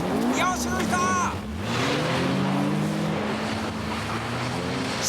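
Race cars battle on a snowy Tsukuba circuit in 1990, with engines revving and droning as they pass. Steady loud motor noise runs throughout, while a commentator talks excitedly over it.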